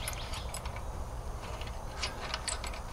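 Wrench and socket loosening the bolts on a boat trailer winch, a quick series of soft ratcheting ticks and clicks close by over a low background hum.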